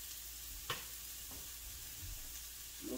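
Onions sizzle quietly in a pan while steaming for eggs Benedict, a soft continuous crackle broken by a few brief clicks and scrapes, close but low in level.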